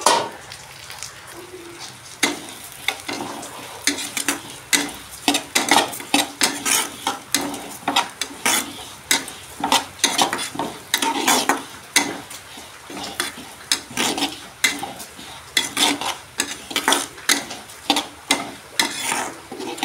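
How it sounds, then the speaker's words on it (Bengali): Mung dal dry-frying in a pan, a spatula scraping and stirring in irregular repeated strokes over a faint steady sizzle, close and continuous with no talking. "মুগ ডালটা একটু ভেজে নেব"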